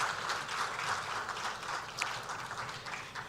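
An audience applauds at a swearing-in ceremony for new security chiefs, a soft, even patter of many hands sounding somewhat distant throughout.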